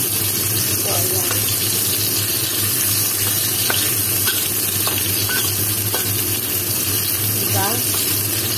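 Ginger and garlic sauté in a pan for tulya sa kamatis, a steady close sizzle with occasional stirring clinks and scrapes throughout.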